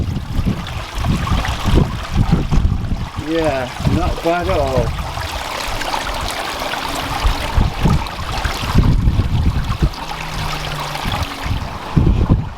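Continuous splashing and trickling of a garden waterfall, steady and close, with wind buffeting the microphone and someone speaking briefly over it.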